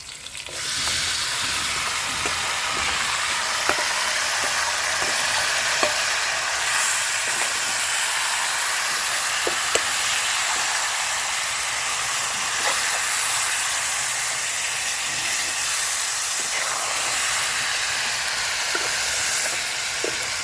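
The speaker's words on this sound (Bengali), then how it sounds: "চলো মাংসটা কষা হয়ে যাক" Mutton pieces frying and being stirred in a pan with fried potatoes, cooked over a wood fire, give a steady loud hiss and sizzle throughout, broken by scattered clicks and scrapes from stirring.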